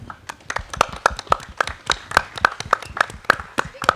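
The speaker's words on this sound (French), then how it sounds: "On peut applaudir ça, s'il vous plaît" An audience claps steadily at a French youth gathering marking twenty years on, a dense run of close, sharp handclaps through the whole stretch with no voices on top.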